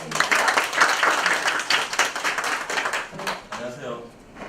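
Audience at a real estate auction study meeting in Daegu claps for a co-leader being introduced, a dense burst of applause that thins out toward the end, with voices mixed in.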